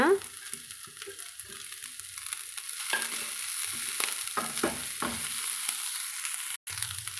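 Greens and their flowers are sautéed together in a pan, with a constant sizzle broken by repeated scraping and clinking of a spoon as the mixture is stirred, close and fairly loud.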